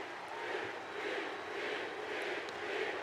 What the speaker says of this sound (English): Crowd is psyched to this.